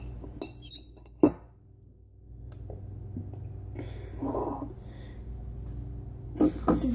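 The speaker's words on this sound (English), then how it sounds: "you're going to need a fork or a spoon to get your cherries and plop them on there" A fork or spoon clinks against glass a few times as cherries are scooped and plopped onto cupcakes, with sharp isolated taps and a soft squishy scoop between quiet pauses.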